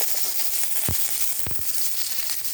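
Panch phoron spices and chillies temper in hot oil for a Bengali vegetable curry, producing a steady sizzle with a few sharp pops and crackles and no speech.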